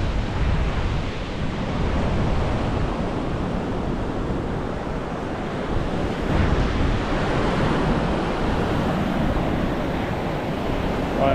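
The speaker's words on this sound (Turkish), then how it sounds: "Ama rüzgar var, biraz dalgalar." Sea waves roll onto a beach at Playa Çakmo in Cancun, Mexico, a steady, loud wash of surf mixed with gusting wind and buffeting on the microphone throughout.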